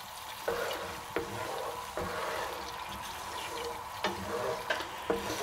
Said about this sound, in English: And we'll just boil that just until it reduces by about half.